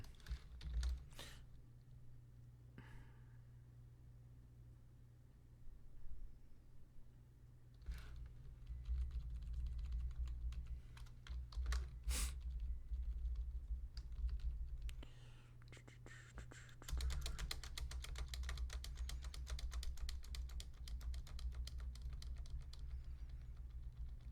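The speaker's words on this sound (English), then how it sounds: "I need to learn how to type faster." Typing on a computer keyboard, quiet, fast bursts of key clicks that come and go, mixed with a low steady hum and some soft background murmuring.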